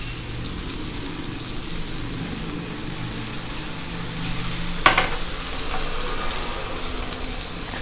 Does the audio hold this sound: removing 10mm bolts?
no